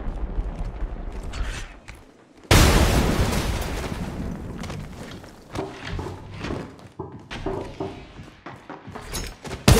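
A grenade blast in Apex Legends Mobile: one sudden loud explosion whose roar fades over several seconds, followed by scattered clanks, footsteps and mechanical game noises.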